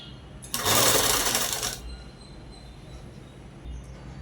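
Sewing machine stitching a long stepped frock, one loud continuous whirring run of about a second followed by quiet room tone.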